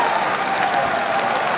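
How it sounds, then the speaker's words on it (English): A political conference audience claps, a dense, steady burst of applause from a large crowd, loud and close, lasting briefly without pause. "what are you clapping for, that I am or I'm not?"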